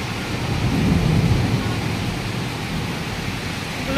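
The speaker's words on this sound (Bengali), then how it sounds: "কিভাবে বৃষ্টি হচ্ছে, তুফান চলে এসছে একেবারে।" Heavy rain in a thunderstorm pours as a dense, loud, unbroken roar, with a deeper rumble swelling early on and no voices.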